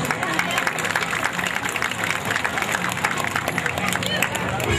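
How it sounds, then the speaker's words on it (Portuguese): Steady, dense applause from a large crowd at an outdoor civic parade in Brasiléia, Brazil, mixed with cheering and hubbub, continuous throughout. "recebe do público presente uma calorosa salva de palmas."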